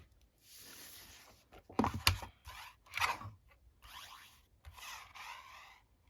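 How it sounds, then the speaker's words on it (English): Scissors or a paper trimmer cut an inch-wide strip from a sheet of Stampin' Up! Favoured Flowers designer paper, making a series of close, quiet rasping slices and rubs with short pauses between them. "So we'll cut an inch strip off this."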